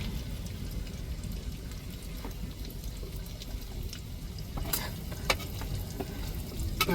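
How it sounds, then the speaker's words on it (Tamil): Squid pieces frying in oil on a flat dosa griddle, a continuous close sizzle with a few sharper crackles and scraping stirs near the end, no voices. "இப்படி தாங்க கொஞ்சம் கொஞ்சம் கனவாயை போட்டு போட்டு எண்ணெயில் நம்ம வறுத்து எடுத்துக்கிடுவோம்"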